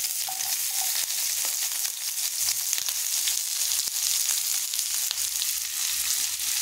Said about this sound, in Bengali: তো এবার পেঁয়াজটাকে আমি সুন্দর করে লাল করে ভেজে নেব